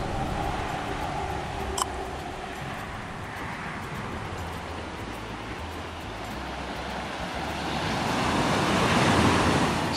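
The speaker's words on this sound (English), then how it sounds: "beach in Costa Rica" Surf rolls onto a beach in Costa Rica near Puntarenas as a steady wash of breaking waves, blended with wind buffeting the microphone and building louder toward the end.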